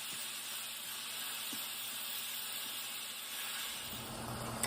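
Beef for sausage gravy sizzles in a pan as a steady, soft hiss that holds evenly from start to finish.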